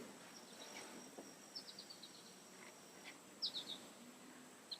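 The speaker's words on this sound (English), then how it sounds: "lot of birds chirping and flying" Birds chirping outdoors at a nature center, with brief high chirps scattered over a faint hiss of insects, fairly distant and soft.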